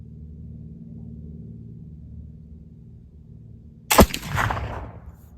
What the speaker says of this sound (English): here's shot number one with our wet milled powder